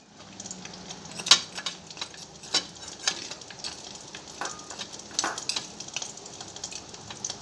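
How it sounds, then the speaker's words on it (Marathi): Hot oil sizzles and crackles steadily as cumin, mustard seeds and garlic fry for tempering, with occasional metallic clinks of stirring, close by. "तेल तापलंय आता हा मग फोडणी द्यायची जिरे मोहरी लसूण घेतला"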